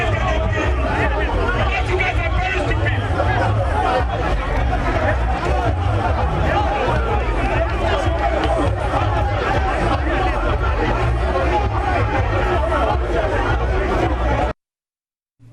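Dense, agitated crowd noise from protesters scuffling with police at a barricade in a Ghanaian mining community, a constant loud babble of many voices and shouting with no pauses, cutting off abruptly at the end.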